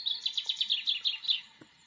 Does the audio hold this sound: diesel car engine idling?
no